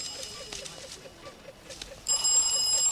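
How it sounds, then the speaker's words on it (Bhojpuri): A phone rings in a household setting, a faint repeating electronic tone that turns into a louder, brighter ringtone in the last second. "लागता भैया के फोन आइल"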